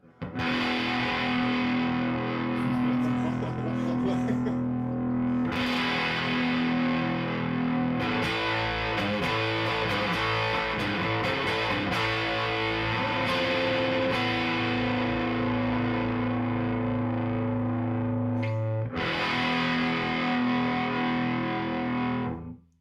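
Distorted electric guitar played through an amp on the bridge pickup, a sustained chordal tone with several strummed changes and a break near the end, loud and steady with no talking.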